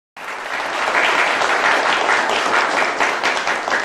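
Studio audience at a televised Indonesian debate show breaks into loud, dense applause that starts abruptly and stays full and steady throughout, with no talk over it.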